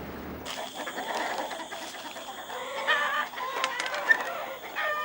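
Chickens cluck and murmur over a steady background hum in an Amazonian town, with a few sharper calls rising briefly, moderately close.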